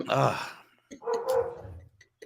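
A dog barks in a few short bursts somewhere in the room, fairly near, mixed with someone talking.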